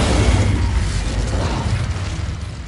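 A fiery Incendio spell is cast in Hogwarts Legacy, a heavy whooshing burst with a deep rumbling boom that roars steadily and slowly fades, loud and close.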